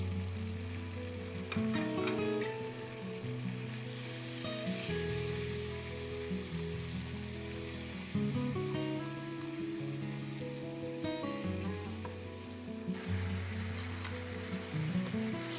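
Four spices sizzle and crackle steadily in a hot pan with oil and browned onions for chickpea curry, a continuous frying hiss with occasional stirring scrapes, no voices.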